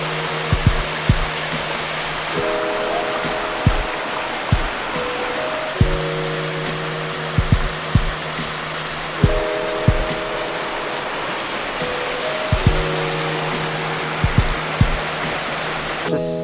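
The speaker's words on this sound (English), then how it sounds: "We've reached this nice little bridge with the waterfalls" A small waterfall rushes beside a little bridge on a mountain valley trail in the Jeseníky range, a steady loud wash of water throughout, with scattered clicks and short tonal beeps over it and no talk.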